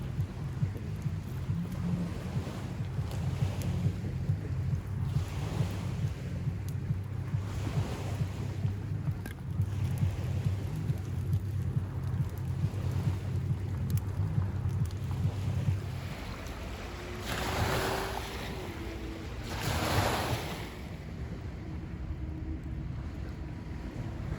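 Waves wash steadily onto a beach at night in a continuous broad roar with wind buffeting the microphone, a low rhythmic thumping running beneath for the first two thirds, and a couple of louder surges near the end.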